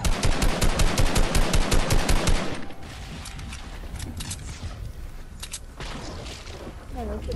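Gunfire in the video game Fortnite: a loud rapid burst of automatic shots for about two seconds, then scattered quieter single shots and game sounds.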